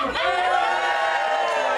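An audience in a theater show cheers and whoops for a hero entering, a dense burst of voices that starts abruptly and holds steady, loud and close, for under two seconds.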